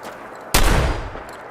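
A gunshot in Fallout 4 goes off as a single loud, sudden crack that decays into a short echoing tail, with a quieter low background beforehand.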